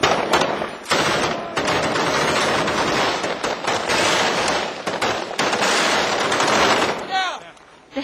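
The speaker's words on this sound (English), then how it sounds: "The heavy fire keeps the insurgents' heads down." Heavy machine gun fire rattles in loud, sustained bursts at close range during a combat engagement with insurgents, with brief pauses between volleys and voices heard among the shots.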